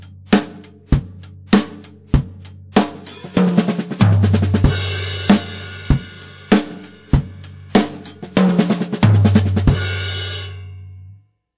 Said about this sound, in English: the first rights, we'll just pull them out onto 2 toms. It'll be a 2-beat fill-in.